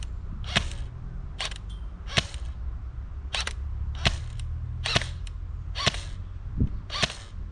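An airsoft AEG rifle fires about nine sharp, evenly spaced single shots at a 30-meter target, each a crisp snapping crack heard close and alone with no talk.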